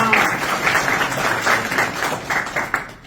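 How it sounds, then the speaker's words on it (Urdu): A group of students applauds a boy named Asadullah in a classroom, a brief round of scattered hand claps close by with a voice faintly underneath. "اس کے لیے اسد اللہ کے لیے تالیاں"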